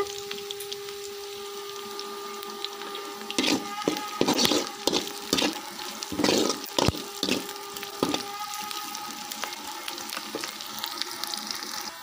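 Onions sautéing in a frying pan while spinach (panna keerai) is prepared, a steady sizzle with scraping stir strokes bunching up mid-clip, heard close with no talk.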